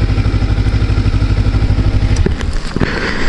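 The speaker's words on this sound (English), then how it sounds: "Park my bike in the bike parking." A motorcycle idles loud and close with a rhythmic, chugging engine pulse while being parked, followed by a few clattering knocks as it settles.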